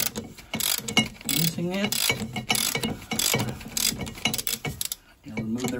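A ratchet wrench clicks while loosening a spark plug on a Mercruiser boat engine, giving close bursts of rapid mechanical ticking with metallic clanks, and someone talks over parts of it.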